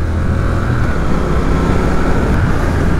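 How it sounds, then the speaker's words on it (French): A 2020 Triumph Speed Twin 1200 is ridden on the road, its engine a steady, loud, dense rumble blended with heavy wind rush throughout, with no speech. "La moto, elle fait un bruit magnifique."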